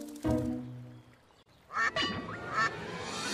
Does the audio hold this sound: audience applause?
no